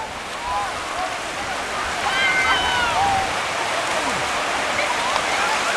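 Sea waves washing onto the beach at Burnham-on-Sea in Somerset, a steady broad wash of surf close by, with faint voices and bird-like calls drifting over the continuous roar.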